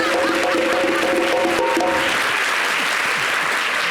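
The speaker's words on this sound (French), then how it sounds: "Les amis, ne soyez pas jaloux, applaudissez les enfants." Audience applause for students at a television show celebrating four INP-HB pupils admitted to École Polytechnique, a loud steady wash of clapping that starts alongside a few voices and then continues alone.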